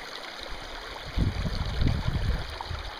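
Stream water trickles and gurgles around stepping stones on a fell walk near Buttermere, a steady close wash that grows louder and more turbulent partway through, with no talking.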